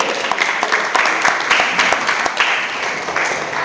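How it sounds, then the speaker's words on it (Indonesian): Audience applause at a church Christmas celebration held by a Batak youth group in Medan, Indonesia: steady, dense clapping from a crowd, loud and continuous throughout. "Kita beri tepuk tangan buat Tuhan Yesus."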